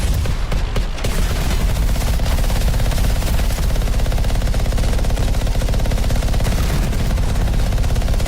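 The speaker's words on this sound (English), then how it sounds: "To be fair, this is only a masterwork autocannon." Rapid, sustained autocannon fire from a masterwork-grade weapon in the sci-fi shooter Anthem, a loud dense stream of shots continuing unbroken for several seconds with no talking.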